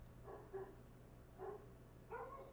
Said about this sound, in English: Can you hear my dogs wilding?